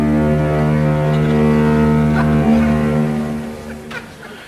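A foghorn at a neighbouring foghorn factory gives one long, deep, loud blast that holds steady, then fades toward the end.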